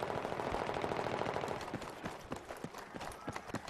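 Rapid gunfire from a shotgun in Battlefield 3 Team Deathmatch on Talah Market, a burst of dense shots giving way to scattered sharp blasts and impacts, loud and close with no talk.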